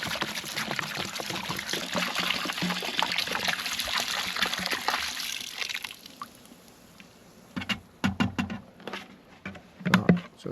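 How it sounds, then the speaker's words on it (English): Vinegar pours into a bucket for soaking recovered fishing gear, a continuous splashing stream for about six seconds, then a few separate drips and knocks. "We're going to just pour it in."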